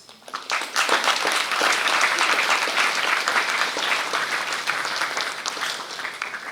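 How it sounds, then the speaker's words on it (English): A school valedictory audience gives a big round of applause, a dense wash of many hands clapping that builds quickly, stays loud and sustained for several seconds, and eases slightly toward the end. "thank them by giving them a big round of applause."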